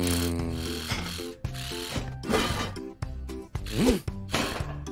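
A cartoon wrench ratchets over a wheel cap, giving loud, close clicking ratchet bursts in several quick runs with short pauses between them, in a playful animated style with no speech.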